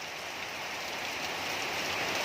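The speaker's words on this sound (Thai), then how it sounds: "ฝนตกแล้วค่ะพี่น้องฝนตกแล้ว" Steady rain falls continuously, a dense even hiss of drops on surfaces with no voices over it.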